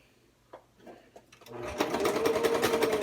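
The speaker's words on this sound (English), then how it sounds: "I'm going to sew down and pivot and go over" A sewing machine runs up from a few soft handling clicks into steady close stitching along a skirt waistband seam, its rapid needle rhythm loud and continuous for the last second and a half.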